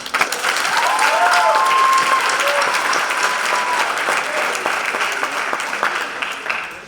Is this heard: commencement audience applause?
yes